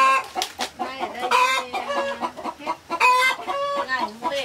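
Chickens cluck and a rooster calls loudly and close at hand in a rural farmyard, the harmonic clucks coming in a busy, irregular run throughout.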